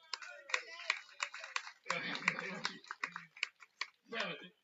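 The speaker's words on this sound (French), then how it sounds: "On peut applaudir Serge, les amis." Scattered, uneven claps from the audience at a regional pétanque final in Fayence, honouring an 83-year-old player, with a few sharp hand strikes mixed in among people talking.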